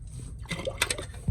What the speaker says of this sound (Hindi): हांडी में पानी शामिल कर लेंगे